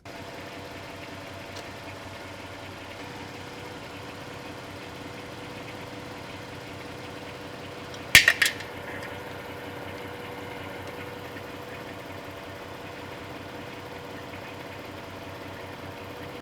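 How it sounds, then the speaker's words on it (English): A Volkswagen engine with an 09G or 09M automatic transmission idles in a workshop during a transmission fluid service. It gives a quiet, steady hum with one brief metallic clank partway through and no talking. "We're gonna actually start it and start getting some temperature and some fluid moved up through the transmission."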